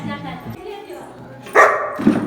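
A German shepherd gives a couple of sharp barks close by, loud and abrupt, amid people talking.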